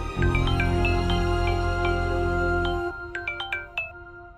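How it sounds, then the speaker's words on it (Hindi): A mobile phone ringtone plays a bright melodic tone sequence over a low music bed, then continues alone as a few clear, ringing notes once the music drops away. "कि तभी उसके मोबाइल की रिंग बजने लगी।"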